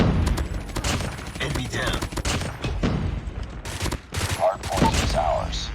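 Rapid gunfire in a first-person shooter video game, with dense overlapping shots and bursts continuing steadily throughout at close range.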